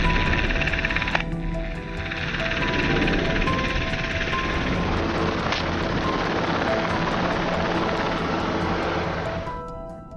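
A helicopter flies overhead during a wild boar hunt in Turkey, its rotor and engine drone a loud, constant broadband roar for the whole stretch, easing slightly near the end.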